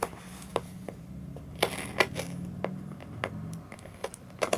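A knife cuts into plastic packaging of a bootleg Marvel Legends Groot figure, a close run of crinkling, scraping and crackling with sharp snaps scattered throughout.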